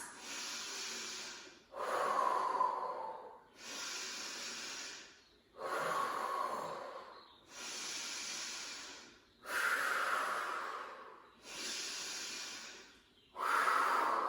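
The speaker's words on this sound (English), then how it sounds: "make the breaths really fast" Fast, forceful rhythmic breaths during a Pilates exercise, about eight loud, close exhalations in steady succession, each a breathy rush separated by short pauses, with no talking.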